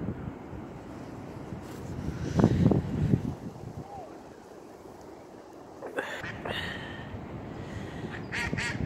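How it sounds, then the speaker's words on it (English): Ducks call out at a local duck pond in Apley Wood, Telford, with a cluster of loud honking quacks near the start and softer calls later over steady outdoor background noise. "This is the local duck pond"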